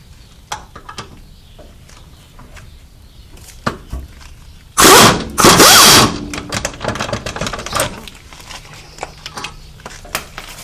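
Power tool briefly loosening a brake caliper slider bolt on a car being lowered with cut springs, a loud burst of two short whirring runs near the middle, surrounded by quieter clinks and handling noises.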